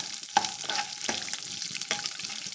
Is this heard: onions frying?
yes